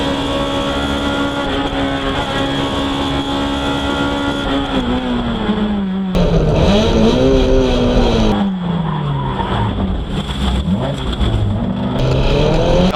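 Race cars, a Honda S2000 and a C5 Corvette, roar and squeal their tires through a track corner, loud and steady throughout, with the engine pitch sliding and rising as they brake and accelerate.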